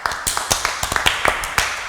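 Sharp, uneven claps from a small church group at an anniversary celebration, about a dozen close hits in a loose, not quite unified rhythm.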